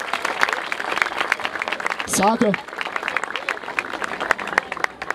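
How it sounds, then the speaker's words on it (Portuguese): An audience at a rap battle event in Barueri claps and applauds steadily, with a brief shout from a voice partway through and the crowd noise continuing throughout. "Uma salva de palmas aí pra Dentes também."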